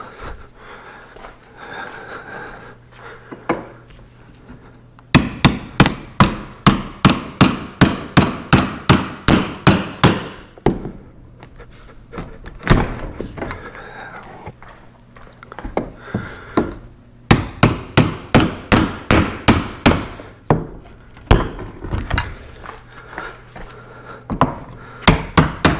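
Repeated sharp hammer blows strike wood in quick steady bursts during a fireplace shiplap and mantel build, loud and close, with brief pauses between runs of strikes.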